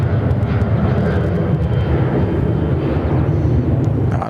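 An airliner departs Sydney Airport with a loud, steady roar of jet engines and deep rumbling thrust that holds throughout and eases slightly at the end.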